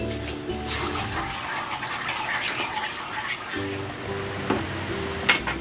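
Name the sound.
pouring pork broth into pot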